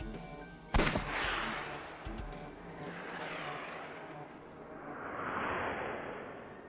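A single sharp gunshot in the video game AI: The Somnium Files, a loud crack followed by a softer second hit and drawn-out whooshing, rumbling game effects.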